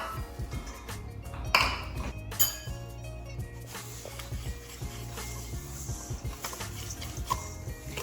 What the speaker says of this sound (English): Whisk all together, all dry ingredients, cinnamon, baking powder, and salt.